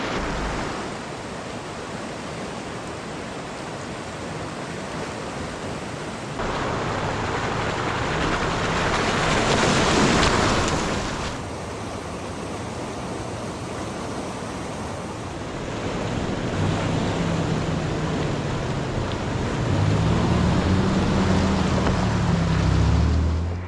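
Off-road vehicle pushing through a deep water crossing in Colorado, with a loud broad rushing splash and surge that swells and eases in waves, while a low engine drone runs underneath. No one speaks.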